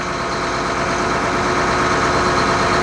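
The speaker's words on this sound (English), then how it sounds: "love the sound of a Cummins though, eh?" A Cummins diesel idling inside an AEC Routemaster London bus gives a steady, close, even rumble that holds without a break and without voices.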